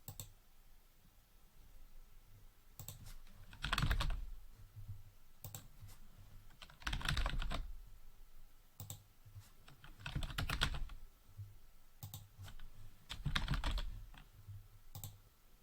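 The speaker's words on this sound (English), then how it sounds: "Here we can type in the names of our attendees into the Add Existing Attendee box." Keystrokes on a computer keyboard while entering attendee names into a register system, arriving in short bursts of rapid clicking separated by quieter gaps, close and clear with no talk.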